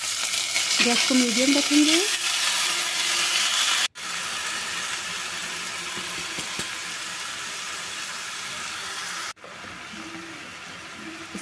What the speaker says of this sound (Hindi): तेल हमारा गरम हो गया है तो डालेंगे दाल।